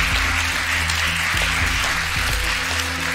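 Loud, dense applause from a studio audience on a Polish television show, continuous clapping over a low hum with a few thumps, no clear speech.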